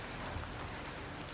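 Heavy rain falling steadily at a family home, a soft, even hiss of rainfall that stays faint and unbroken throughout.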